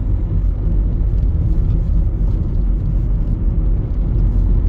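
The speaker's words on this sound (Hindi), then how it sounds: "ये देखो ऊपर यार कितना ट्रैफिक है भाई" Heavy road traffic in India makes a steady, loud low rumble of engines and tyres, unbroken throughout with no talk.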